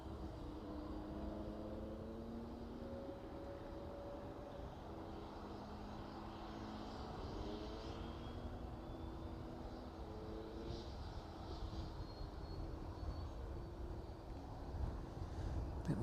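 A West Atlantic aircraft taxis toward its stand at East Midlands Airport, a steady, distant engine drone with rising and falling propeller or turbine tones that grows a little louder near the end.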